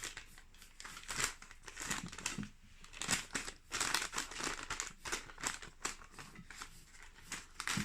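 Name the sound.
folding paper parcel for trout en papillote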